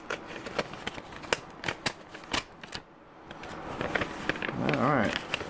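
A taped-up mail envelope, an autograph return, torn open along its top edge: crisp crackly paper rips and rustles in short bursts, close and fairly loud, ending in a longer tearing stretch.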